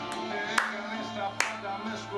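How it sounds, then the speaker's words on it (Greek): A couple of sharp hand claps, spaced about a second apart, ring out over a steady background of music and voices as people clap along to a man's dance. "Βάρα παλαμάκια, ναι"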